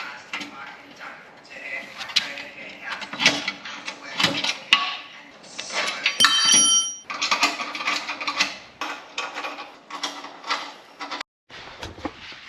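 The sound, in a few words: fitting little bolts onto home gym equipment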